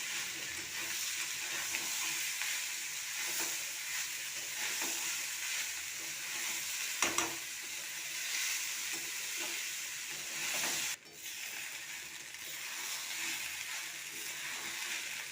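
Flattened rice pulao with vegetables, turmeric, salt and sugar mixed in a pan gives a long, even hiss of gentle frying with scattered soft stirring scrapes and a couple of sharper knocks, close and steady with no voices.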